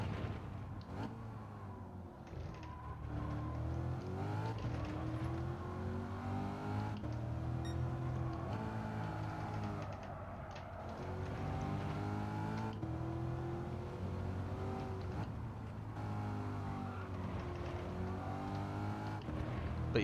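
A Chevrolet C8 mid-engine car in Gran Turismo drones steadily around the track, its engine note rising and falling through gear changes, moderately loud and continuous with no talk.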